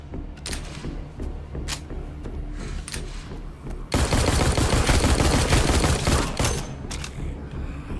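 Gunfire in the zombie video game The Walking Dead Onslaught: scattered single shots, then a loud, dense burst of sustained rapid fire lasting several seconds before it tapers back to sporadic shots.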